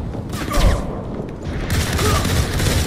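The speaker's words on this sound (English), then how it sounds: "Somebody's fucking shooting me again." Gunfire in the video game Modern Combat 4: Zero Hour, with bursts of shots and booming impacts rolling over a dense battle din, loud and close.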